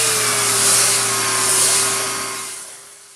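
A belt sander fitted with coarse 50 to 80 grit paper roughs down wooden table legs that carry table saw blade marks. It gives a steady motor whine with a broad gritty rasp, loud and close, and it tapers off toward the end.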